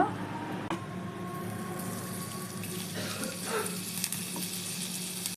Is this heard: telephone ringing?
no